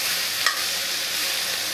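Potato and kohlrabi curry fries in a hot pan with a steady, loud sizzle and a brief splash as hot water is poured in, no voices present.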